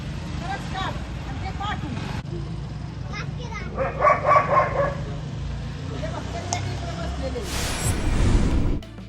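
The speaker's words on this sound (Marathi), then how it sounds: "खेड तालुक्यातील कडूसमध्ये भटक्या कुत्र्यांचा वावर वाढल्यानं नागरिकांमध्ये सुद्धा भीतीचं वातावरण आहे" Stray dogs in a village neighbourhood in Khed taluka give a short burst of barking in the middle, mixed with children's voices and general outdoor noise, with people talking.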